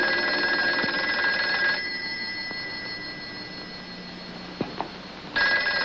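A telephone rings in an indoor room, two electronic ringing bursts with a quieter gap between them and a couple of small knocks, no talk.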